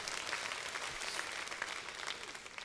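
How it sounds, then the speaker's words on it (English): Audience applause following a talk by a three-time Super Bowl champion and four-time Pro Bowler, a steady, dense round of clapping at even loudness with no talk over it. "a round of applause"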